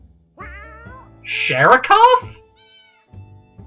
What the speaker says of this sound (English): He meows when I click on him.